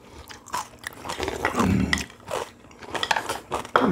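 Someone eats a crunchy vegetable side dish, such as seasoned greens, onion or radish kimchi, at a Korean home-style meal. Close, repeated crisp bites and crunchy chewing come in bursts, with no talking.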